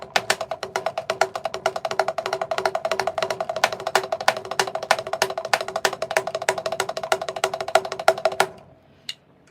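Inverted paradiddles played on a drum kit, a fast, steady run of evenly spaced sharp strokes continuing for several seconds before stopping abruptly.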